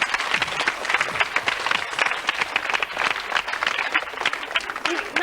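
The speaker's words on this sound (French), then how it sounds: "On va l'applaudir pour la peine" A TV studio audience on a 1991 children's show applauds Nicolas with lively, fairly close clapping that stays steady for several seconds, crowd murmur beneath it.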